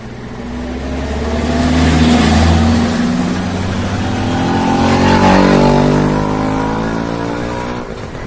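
Cars drive past on a road in the evening, a loud, close engine roar rising and falling as two vehicles pass one after another, with no talking.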